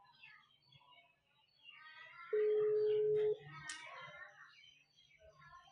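A phone call being placed: a steady electronic telephone tone holds for about a second in the middle, with someone talking before and after it and faint room noise.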